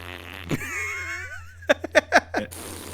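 A voice-mod fart sound effect fires a quick run of four or five short, sputtering bursts close up, preceded by a softer warbling tone, with no talking.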